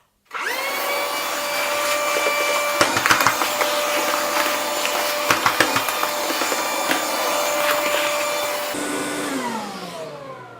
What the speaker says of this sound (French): je vais quand même passer l'aspirateur sur mon aspirateur.